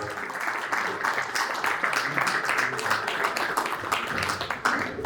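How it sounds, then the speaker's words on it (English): A crowd gives a round of applause at a company listing ceremony at the National Stock Exchange in India. The dense, continuous clapping holds at an even level for about five seconds, with faint voices mixed in. "Everyone get a big round of applause"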